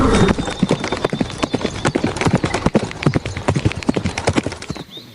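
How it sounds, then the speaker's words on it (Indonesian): Horse hooves clip-clop in a quick, regular run of sharp knocks, close and loud, with a brief whinny-like tone near the end. "Seekor kuda."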